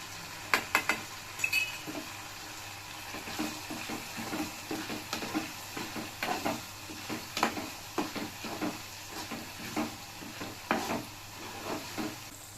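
A spoon stirs mango pickle sautéing with asafoetida in a pan, giving soft irregular scraping and tapping with a faint sizzle beneath, quiet and close.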